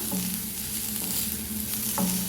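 Masala with Kashmiri chilli powder being stirred in a pan over a low flame: a steady, close sizzle with continuous scraping and stirring, and a couple of louder scrapes near the end.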